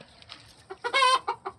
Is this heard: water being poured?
no